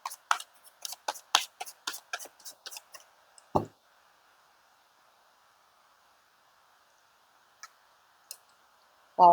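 Tarot cards are shuffled at close range in a fast run of crisp riffling clicks and flicks, followed by near silence broken by a soft thud and a few faint taps.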